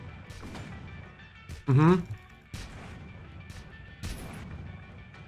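Shots fired in a My Hero Academia video game, a few sharp bursts spaced across a few seconds over game background sound, with a brief murmur of speech.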